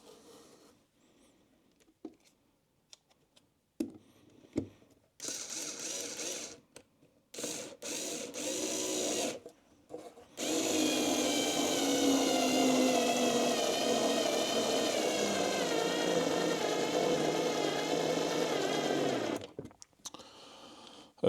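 A Flex electric screwdriver drives a 4x30 screw, with short whirring bursts and pauses before a steady ten-second motor whine under load that stops abruptly.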